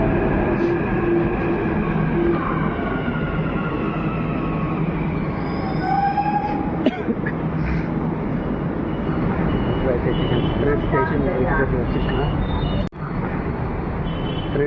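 A metro train pulls away from Sultan Bazar station, a loud, continuous rolling rumble inside the carriage with brief wheel squeals and a sharp click near the end.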